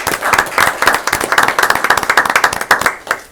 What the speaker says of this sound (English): So if we can give those students a round of applause.